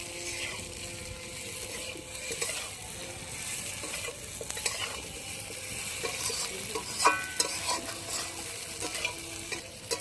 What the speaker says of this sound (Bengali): ফুলকপি আলু দিয়ে ভালো করে কষিয়ে নেব